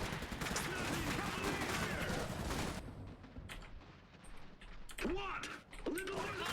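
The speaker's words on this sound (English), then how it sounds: "Can we dodge the field gun?" A field gun fires in the Iron Harvest strategy game amid a busy battle, with sharp cracking shots and bursts of gunfire, quieter thuds and someone talking over the fighting.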